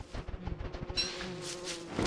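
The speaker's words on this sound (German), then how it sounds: "Und ich höre hier auch Bienen." Bees buzzing in the video game Don't Starve, a soft, steady insect drone that runs through the short stretch at moderate distance, with no talking over it.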